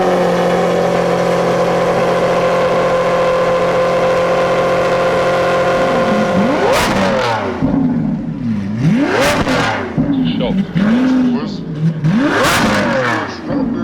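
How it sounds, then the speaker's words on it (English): A Lamborghini Aventador SVJ fitted with a Ryft titanium exhaust idles with a loud, steady drone, then revs repeatedly in sharp rising and falling sweeps, close and dominant throughout. "we're installing a bespoke titanium exhaust system from Ryft"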